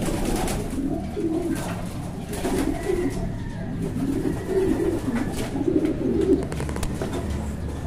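Racing pigeons coo in a loft, soft rolling calls repeating throughout amid a steady low background hum, close and continuous with no talk.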